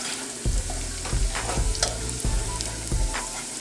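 Tomatoes, shallots and garlic sauté in a pan, a steady close sizzle broken by clattering stirs and scrapes at irregular moments, with no talk.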